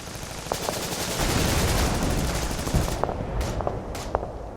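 Opening gunfire of a WWII bridge assault, with rapid machine-gun bursts rattling steadily throughout and a few sharper single cracks standing out near the end, fairly close and dense.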